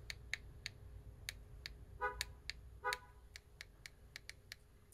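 A Honda car parked outside answers its key fob remote with two short, distant chirps about a second apart, heard faintly through a room with steady soft ticking in the background.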